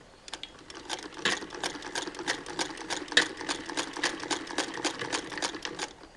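A Singer hand crank sewing machine runs steadily, its needle mechanism producing a fast, even rhythmic clatter of close, moderately loud stitching ticks with no talking over it.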